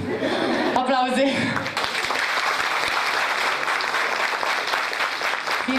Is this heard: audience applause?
yes